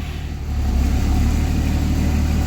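Cummins diesel truck engine with a 48RE transmission idling close by, a steady low rumble that swells slightly as the truck is shifted into drive and then holds a constant running note.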